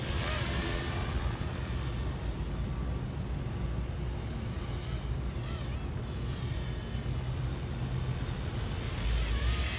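A Blade 235 CP collective-pitch RC helicopter motor runs steadily at low idle speed, a continuous even drone with a whining buzz layered over a low rumble for the whole stretch, with no talking over it.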